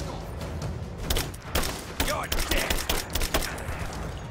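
Gunfire in Rise of the Tomb Raider, including an automatic rifle: a rapid string of sharp bursts and cracks in the middle section, with game noise and ambience around it.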